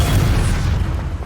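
Confringo fire spell blast in the video game Hogwarts Legacy, a single dense, loud explosive boom with a rumbling low body filling the whole short moment.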